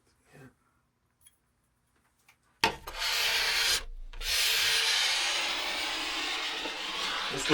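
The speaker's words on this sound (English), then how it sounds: "I'm going to keep trying to scrape everything front to back while I do this." A metal scraper is drawn front to back across a scratched snowboard base, making a steady, close abrasive rasp. It follows a few faint taps and breaks off once briefly.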